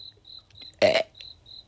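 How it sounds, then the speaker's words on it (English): A single short, loud burp erupts up close, set against a faint backdrop of steady cricket-like chirps and a low hum, with no talk around it. "Everybody burps."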